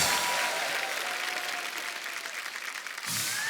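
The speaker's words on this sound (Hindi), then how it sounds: "सबसे स्वीटेस्ट सुपरस्टार के लिए जोरदार ताली हो जाए।" Steady applause from a crowd, a dense wash of clapping that holds level for a few seconds before swelling slightly at the end.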